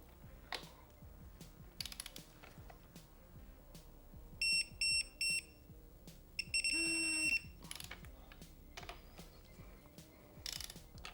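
A torque wrench tightens the front brake caliper bolts on a 2010 BMW S1000R motorcycle. Faint ratcheting clicks come in short bursts, with a few brief electronic beeps between them, in a quiet setting.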